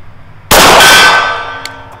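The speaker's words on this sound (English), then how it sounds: "The silver gong, of course," A bullet from a Kimber R7 Mako pistol strikes a silver steel gong at the range, giving one sharp, loud metallic clang that rings on and slowly decays.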